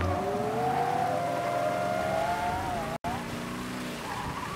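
Game car from Mafia: Definitive Edition, a red drop-top, driving with a steady engine drone that rises and wavers alongside tire noise, close and continuous, broken by one brief dropout near the end.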